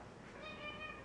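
A cat being playfully spanked meows close by, a clear drawn-out meow with steady background noise and no talking.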